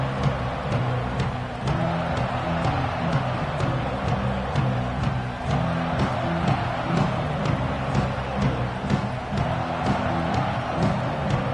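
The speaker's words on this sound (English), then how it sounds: "This crowd ready to make its presence known." Stadium crowd noise in the College Football 26 video game, a loud, continuous roar and cheer that holds steady throughout with no clear breaks.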